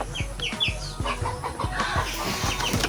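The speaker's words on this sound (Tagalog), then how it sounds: "Ang mga manok dara apa di sa kurungan." Several chickens cluck and squawk in a pen on a farm that also keeps turkeys and ducks, with repeated close, overlapping clucks and short calls in a steady rhythm and no talk.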